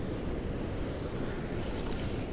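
Ocean waves wash against a rocky fishing spot, a continuous broad roar of surf mixed with wind buffeting the microphone, steady throughout with no voices.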